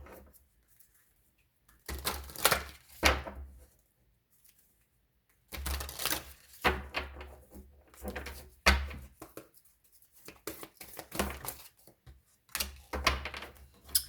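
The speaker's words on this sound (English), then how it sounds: "let's get an oracle card if I can shuffle" Bursts of papery shuffling and riffling of oracle cards in several short clusters, separated by brief pauses, close up with no talking.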